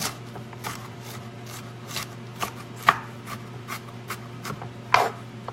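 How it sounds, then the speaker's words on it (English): Knife chopping vegetables on a cutting board for turkey chili with garlic, giving a steady run of sharp, close thuds and a few louder strikes over a low kitchen hum. "So as I chop this up, it's gonna go in with my turkey and my garlic."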